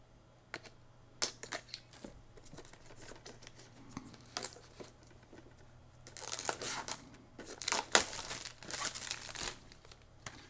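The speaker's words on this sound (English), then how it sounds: "I'm gonna have to cut that plastic off of it." Plastic wrap being cut and peeled off a 4K movie steelbook case, heard as close, irregular crinkling and crackling bursts with sharper tearing rustles in the second half.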